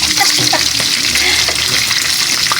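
Loud, close sizzling of food frying in a hot pan, with continuous crackle and occasional stirring scrapes throughout.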